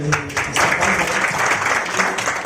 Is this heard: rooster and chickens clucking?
no